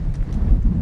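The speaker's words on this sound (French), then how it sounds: "comme vous pouvez l'entendre le vent qu'il y a" Strong wind at night buffets the microphone as a loud, low, rumbling roar that stays steady for under a second.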